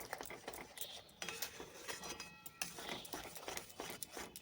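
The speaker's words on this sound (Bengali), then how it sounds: "এইভাবে নাড়াচাড়া করে একটা ডো রেডি করে নিতে হবে" A spoon stirs ground puffed rice and milk into a dough in a pan over a low flame, making quiet repeated scraping and clinking strokes in an uneven rhythm.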